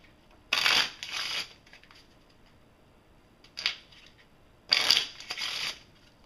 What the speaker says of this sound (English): that is a standard deck, 52 cards in it, and I'm going to shuffle the deck.